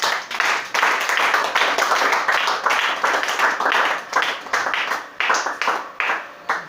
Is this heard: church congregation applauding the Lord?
yes